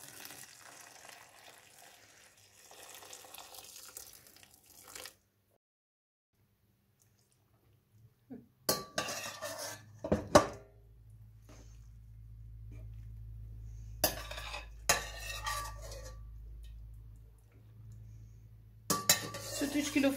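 Cheese curds and whey are poured slowly into a cloth bag for straining in a village kitchen, heard as pot clinks, soft liquid splashes and brief handling noises with pauses between them, while someone talks over parts of it.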